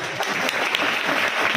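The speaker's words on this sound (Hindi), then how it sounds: "ताली" An audience at a religious discourse applauding, dense steady clapping from many hands throughout, fairly close and moderately loud.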